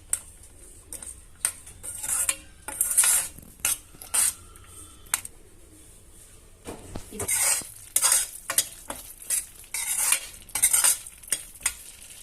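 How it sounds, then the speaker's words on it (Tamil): Stirring a boiling tamarind mixture for puliyodharai: a spoon scrapes and clinks against the pot in irregular bursts over a steady low bubbling simmer, close and fairly loud, with no talking. "இதை நல்லா மிக்ஸ் பண்ணிட்டு நல்லா கொதிச்சு வரட்டும்."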